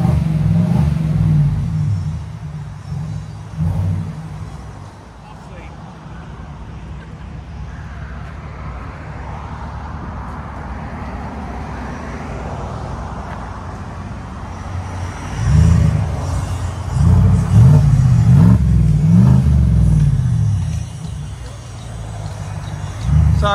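A 2024 Chevy Tahoe with a 5.3L V8 and Black Widow exhaust rumbles at idle, then revs in loud deep surges, with voices and construction noise around it.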